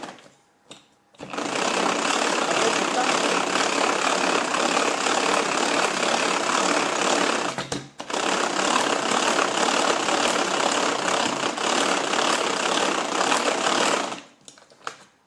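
An electric mixer whips a pineapple-coconut meringue, a steady loud whirring drone running close up for many seconds with one brief pause midway, and no talk.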